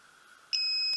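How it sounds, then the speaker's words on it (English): A handheld Bellacorp TPMS tool for tire pressure sensor pairing and removal gives a sharp electronic beep, a sustained two-tone high pitch starting halfway through and holding steady, loud and close. "And you'll hear a beep."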